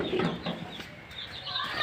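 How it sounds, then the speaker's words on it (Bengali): Chickens clucking inside a coop in cold weather, soft close clucks and murmurs repeating irregularly at low volume. "তো দেখতে পাচ্ছেন মুরগিগুলো খাবার নাই, একদম খাবার নাই"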